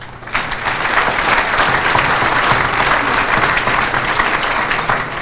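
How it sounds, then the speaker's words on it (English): A full round of applause from the crowd at a governor's luncheon, starting abruptly and holding as a loud, dense, steady clapping for several seconds. "Can we please give him a big round of applause?"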